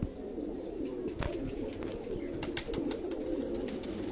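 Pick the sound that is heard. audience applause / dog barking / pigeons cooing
pigeons cooing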